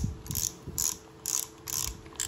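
A Daiwa Kix Freams fishing reel, a Japanese spinning reel, is turned by hand, producing a soft, fast ratcheting click in several short bursts with brief pauses between them, heard close up and alone.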